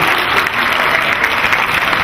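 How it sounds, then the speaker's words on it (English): A conference audience at a healthcare innovation event claps together in a steady, dense wash of applause, loud and even throughout the short burst. "Give yourselves a round of applause for playing that"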